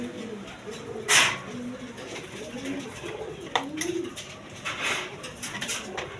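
Pigeons coo low and rounded at a breeder's loft selling birds with eggs and chicks, mixed with a voice speaking and a few sharp rustles and knocks nearby.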